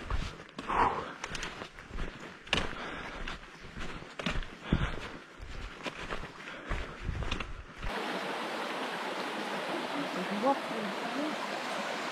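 A small forest stream flows steadily as a continuous rushing wash, heard after several seconds of footsteps and movement on a hiking trail.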